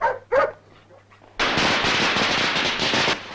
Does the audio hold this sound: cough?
no